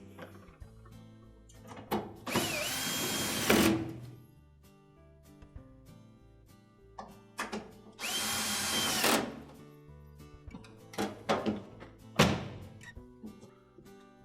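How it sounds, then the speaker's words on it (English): A power drill drives screws into the frame of a Whirlpool washer during a repair, with two long whirring bursts and shorter ones, interspersed with clunks and handling noises at close range. "all we have to do is secure it with the screws"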